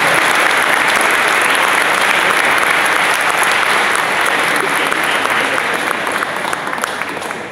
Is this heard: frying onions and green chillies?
no